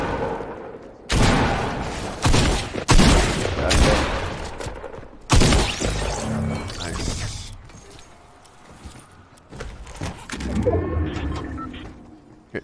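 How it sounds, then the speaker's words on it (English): Submachine gun fire in a Fortnite-style shooter game: bursts of rapid gunfire crackle loudly in clusters, with pauses between and shifting mechanical clatter as someone talks over the shooting. "This is an SMG right here."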